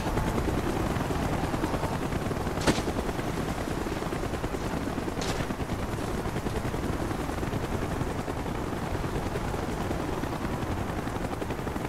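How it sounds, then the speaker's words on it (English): Military helicopter in the Call of Duty Black Ops game, its steady rotor drone and engine rumble filling the whole stretch loudly and continuously, broken by two brief sharp cracks. "Chopper's inbound! Move it!"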